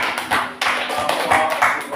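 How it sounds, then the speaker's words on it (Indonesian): Schoolchildren in a classroom clap their hands for a group, a short run of sharp, uneven claps close by with no voices, heard after a class lesson on averages. "Tepuk tangan untuk kelompok"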